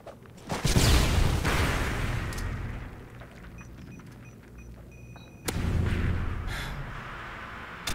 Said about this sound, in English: Tossing a flashbang!